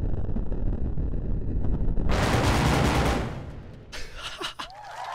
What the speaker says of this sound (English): I didn't know the flinchlock could actually fire this quickly.